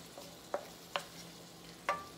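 A larb mixture with lime juice and fish sauce is stirred in a pan, giving three or four soft, separate scrapes over a faint background hiss.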